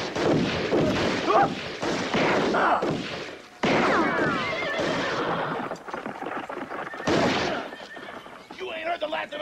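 A horse neighs loudly and repeatedly in a Western film scene, its whinnies mixed with hoof clatter and thumps, while a voice calls out over the commotion.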